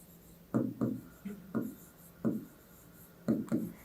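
Chalk or marker strokes during a maths lesson on mensuration: short scratchy bursts in uneven groups, close and quiet, with no talk over them.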